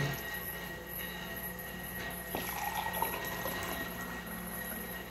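Warm water poured into a container for making soft bread dough, a low trickle that swells into a fuller, louder filling rush partway through and keeps running steadily.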